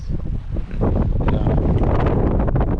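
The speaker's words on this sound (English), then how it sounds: "there's a lot of wind" Strong wind blusters across an open farm field, a steady broadband roar buffeting the microphone throughout and swelling louder after the first moments, with no voices.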